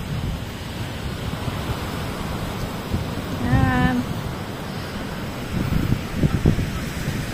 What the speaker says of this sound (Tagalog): Mahangin na ulit.